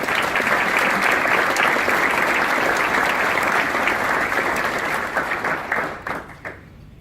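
A large crowd at a mayoral breakfast gives a loud, dense round of applause that holds steady, then thins and tapers away near the end.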